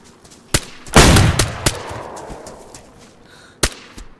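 Gunshots ring out in the video game DayZ, fired into a bush: a few sharp, loud reports, with a heavier burst near the start and another isolated shot later, echoing between them.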